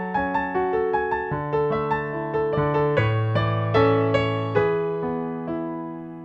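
Piano chords played one after another in a steady progression, each struck cleanly and left to ring into the next, with no voices.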